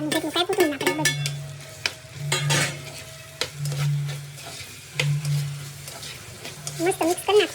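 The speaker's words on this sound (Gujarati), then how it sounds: "પછી નાખવાના વટાણા, કેપ્સિકમ અને ટમેટા" Peas, capsicum and tomato sizzle in a pan while being stirred, the crackle interrupted by repeated low hums and scraping strokes, with a voice talking briefly at the start and end.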